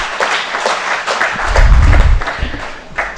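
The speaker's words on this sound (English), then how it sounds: "give a huge round of applause to our honorable sir" An audience at a university valedictory ceremony for a horticulture conclave breaks into dense, sustained applause that swells in the middle and stays loud throughout the short stretch.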